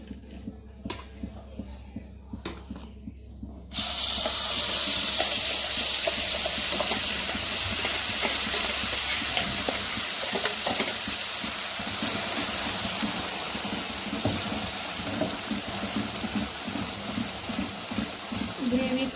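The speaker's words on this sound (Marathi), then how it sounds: "आता त्याच्यामध्ये ही ग्रेव्ही ॲड करू आपण तळून घेऊया" Paneer curry gravy hits hot oil with a sudden loud hiss that settles into a dense, continuous sizzle of frying, close to the pan, following a few seconds of quieter clatter.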